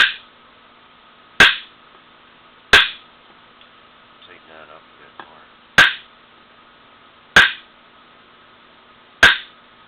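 An inertia bullet puller strikes a pressure-treated 2x4 five times, sharp loud slapping whacks spaced about one to three seconds apart, with a little faint rattling and murmured talk between the blows.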